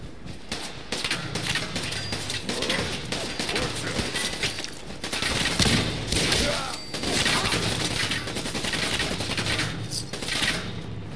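Enemy gunfire in the video game Fallout 4, dense bursts of automatic and rapid shots crackling almost nonstop for several seconds, loud and cluttered with impacts and some shattering, with someone talking over parts of it.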